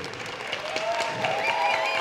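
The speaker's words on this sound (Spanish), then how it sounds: "Un aplauso más fuerte" Audience applause at the Anti COP 2024 gathering in Oaxaca, Mexico: steady, dense clapping across the whole clip with some crowd noise and faint voices mixed in.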